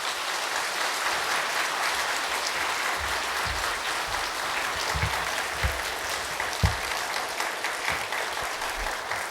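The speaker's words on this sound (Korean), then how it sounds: "우리 목사님 사랑으로 따뜻하게 환영하며 박수로 모시겠습니다" A church congregation applauds to welcome a visiting pastor, a steady wash of many hands clapping close by that holds for the full stretch, with a few louder claps standing out.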